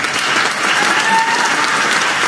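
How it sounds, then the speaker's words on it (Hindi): Brief burst of audience clapping at a seminar, a dense, steady patter of many hands at moderate loudness with no talk over it. "तो ताली बजाने के लिए"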